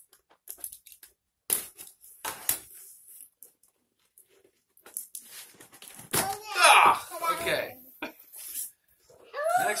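Funko Pop packaging being cut open, with scattered snips, rustles and tearing of plastic and cardboard close by, mixed with people talking.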